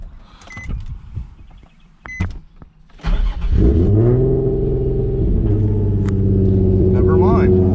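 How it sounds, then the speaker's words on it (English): A tuned Nissan 350Z Nismo running on E85 cranks briefly after some talk and small clicks, then catches and settles into a loud, close, steady idle with a deep rumble and a faint whine. "bear with the startup because I'm pretty sure it's not going to crank up as good"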